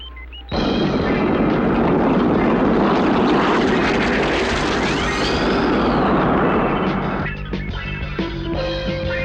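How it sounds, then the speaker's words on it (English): Cartoon spacecraft lifting off with a loud, sustained engine roar that starts abruptly, swells with a rising whine, then eases slightly near the end. "To your stations, commencing liftoff."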